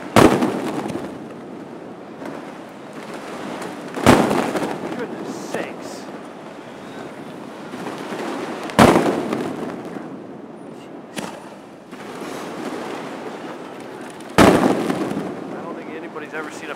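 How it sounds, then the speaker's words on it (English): Several loud Chinese New Year fireworks bang at intervals over a low outdoor rumble, each sharp blast standing out clearly against the steady background. "Never seen a fireworks show like this."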